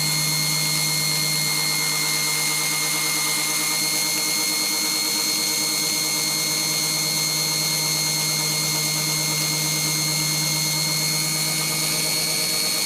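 A power tool grinds and ports the cylinder head of a 1972 VW Beetle 1200, giving a steady, loud, high-pitched whine that holds without pause for the whole stretch.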